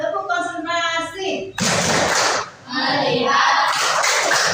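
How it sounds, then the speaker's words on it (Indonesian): Schoolchildren in an Indonesian classroom doing a rhythmic concentration clap, with a teacher's voice at first, then bursts of loud group clapping mixed with chanting children's voices. "coba kita tepuk konsentrasi dulu ya. Tepuk konsentrasi."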